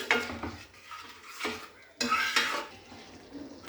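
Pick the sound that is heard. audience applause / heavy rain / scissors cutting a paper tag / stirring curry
stirring curry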